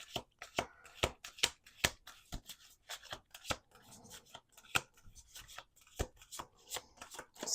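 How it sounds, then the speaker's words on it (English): A deck of playing cards being shuffled, quick riffling bursts and sharp snapping clicks repeating throughout at close range, with no talking. "Let's do 2 more shuffles."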